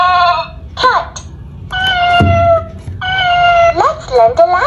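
A kids' learning toy computer plays a cat meowing, several drawn-out tonal meows and shorter mews one after another, loud and close, with no one talking.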